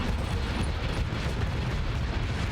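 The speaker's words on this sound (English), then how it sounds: "Ion cannons are basically shutting them down." Ion cannons firing in a Starsector space battle against an Onslaught-class ship, heard as a dense, continuous rumbling roar of rapid weapon fire and impacts, steady and loud throughout with no speech.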